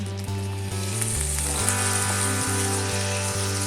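Cooked dal dropped into melted jaggery in a pan over medium heat, setting off a loud, steady sizzle with rhythmic low pulses running beneath it.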